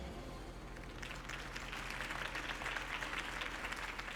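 Crowd applause rises after political candidate Harvey Dent's campaign speech in Batman: The Telltale Series, a broad wash of many hands clapping that swells and holds steady at a moderate distance.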